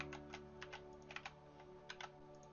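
Keystrokes on a computer keyboard as shortcuts are typed to switch tabs and copy and paste, heard as a few quick scattered clusters of close clicks over a steady low hum, with no talking.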